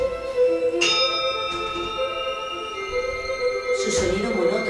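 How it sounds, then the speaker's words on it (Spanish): Church bells ring with long sustained tones, struck again a few times, resonant strikes lingering over a low ambient rumble. "Me despertó a no sé qué hora el sonido de las campanas."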